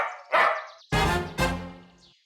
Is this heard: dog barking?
yes